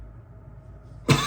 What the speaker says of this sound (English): This cough is about to kill me.